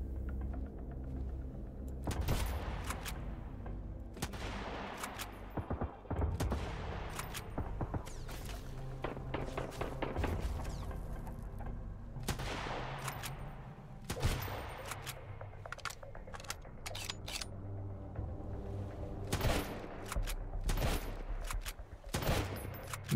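Enemy gunfire in the survival game Sunkenland: repeated bursts and scattered single shots cracking through a steady rumbling game soundscape, moderately loud and near, continuing throughout.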